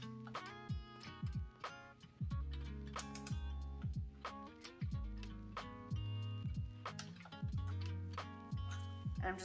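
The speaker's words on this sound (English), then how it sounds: "then I'm gonna take a torque wrench and tighten it to 11 Newton meters." A torque wrench ratchets as an oil filter is tightened on a 2015 BMW R1200 RT motorcycle, steady close clicking strokes repeating through the clip, faint and dry, with some speech.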